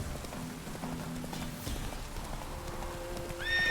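Horse hooves clip-clop steadily in The Witcher 3 game, a close, even rhythm of hoof falls with a brief whinny near the end.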